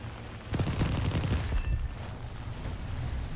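Spitfire cannons in an aerial combat game open up in one sharp burst of rapid shots, then trail off into a rumbling engine drone.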